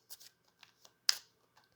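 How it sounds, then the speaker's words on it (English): A deck of cards being shuffled in a few quick, soft riffling bursts, close and quiet, with no talk over it. "I'll shuffle."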